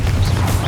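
A Confringo blasting spell bursts in Hogwarts Legacy amid a spider fight, a short dull blast over a steady low rumble, moderately loud and brief.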